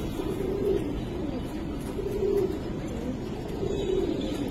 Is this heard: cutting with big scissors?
no